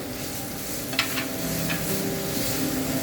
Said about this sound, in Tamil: வெங்காயத்தை நல்லா தாளிச்சு எடுப்போம்.